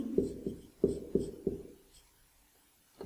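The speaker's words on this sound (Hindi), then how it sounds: "मैं यहाँ लिख देती हूँ" Marker or chalk strokes on a board during a classroom biology lesson, several distinct scratchy taps in quick succession, then a pause and one last faint stroke.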